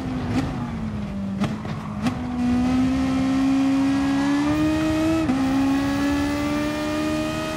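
A race car in GT Sport howls under sustained high revs, its engine note climbing steadily through the gears with a few sharp shift blips early on, loud and close.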